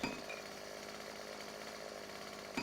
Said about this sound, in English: look at that chainsaw just tear through that tree